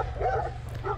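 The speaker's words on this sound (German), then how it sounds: "jetzt immer wieder schön Hundeattacken auf Offroad-Strecken" Dogs barking along an off-road motorcycle route in Sicily, a quick run of yips and barks over a low, steady engine rumble.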